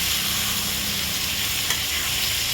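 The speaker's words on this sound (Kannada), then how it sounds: "ಅದು ಎಣ್ಣೆಲಿ ಬೇಯಿದ್ರೆ ಅದು ಕಲರೇ ಚೇಂಜ್ ಆಗುತ್ತೆ ನೋಡಿ" Eggplant pieces frying in hot oil, being stirred, with a steady close sizzle and crackle throughout and a single brief tap near the end; no talking.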